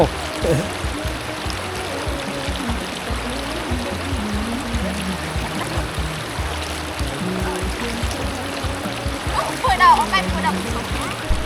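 Water splashing and streaming as someone bathes outdoors in a village, a continuous close splatter and trickle running under people talking.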